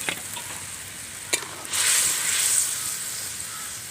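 Fried pointed gourd is added to simmering curd masala and sizzles steadily in the pan, with a couple of sharp knocks followed by a louder burst of frying hiss that settles back to a gentle bubble.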